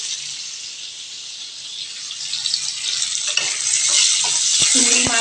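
Prawns frying in a pan give a steady, close hiss of sizzling oil that grows louder, with a few knocks and scrapes of stirring near the end.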